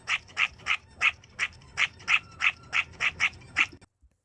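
A dog barks in an AI-generated animation: about a dozen sharp, evenly spaced barks close up at a steady quick rhythm, then a short quiet tail.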